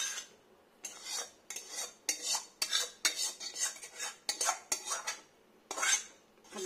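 A metal spoon scrapes and clatters in a wok as rice is mashed and mixed with leftover masala, in repeated close scraping strokes with brief pauses and no talk.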